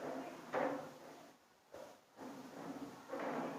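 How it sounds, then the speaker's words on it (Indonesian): Classroom chairs are lifted and shifted across the floor in a few bursts of scraping and knocking, with brief quiet gaps between the movements. "Angkat kursinya, angkat kursi."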